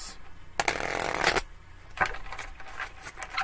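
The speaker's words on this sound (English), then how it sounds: "A couple more shuffles." A deck of tarot cards being shuffled during a reading, heard as two or three crisp riffling bursts close to the microphone, the first long and loud, then shorter flicks.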